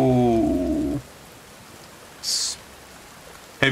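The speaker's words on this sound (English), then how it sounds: "Heavy rain." Heavy rain in the video game Sons of the Forest: a steady, soft hiss follows a brief tonal sound, with two short, brighter bursts of noise later.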